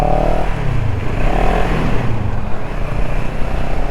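A CFMOTO CLX 700 motorcycle pulling away, its engine note rising in a loud, close rev with rumbling exhaust over about four seconds, no speech.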